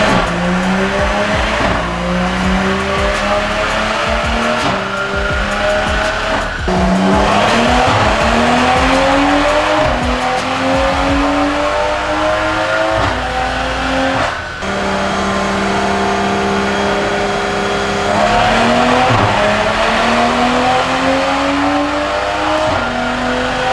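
A Toyota Supra engine revs hard through a long pull, its pitch climbing steadily with brief drops at each gear shift, loud and close with tire noise underneath.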